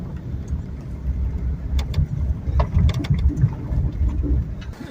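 An old Subaru car drives along a bumpy two-track dirt trail, with a low steady engine rumble beneath irregular knocks and rattles from the rough ground, heard from inside at moderate loudness.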